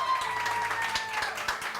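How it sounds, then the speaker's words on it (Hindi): A studio audience at a morning television show claps in a short, fairly close burst of dense, overlapping applause, with a faint voice under it. "सो मुस्कान के लिए बहुत सारी तालियां।"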